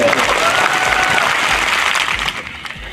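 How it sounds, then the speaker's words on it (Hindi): A crowd at a tribal political rally bursts into loud, dense applause for the organizing committee, a steady roar of clapping that tapers slightly toward the end. "इस आयोजन कमेटी के लिए जोरदार तालियां बजा दी जाए"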